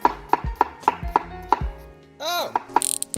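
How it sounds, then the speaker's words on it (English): A kitchen knife chops onions on a cutting board in sharp, evenly spaced thuds, about eight close strikes. A brief scraping sweep breaks the rhythm before a few more quick taps follow. "I'm just gonna keep chopping up all these onions."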